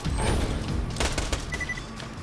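A turret in the video game Borderlands 2 fires a rapid, loud burst of gunshots lasting about two seconds, with no talking.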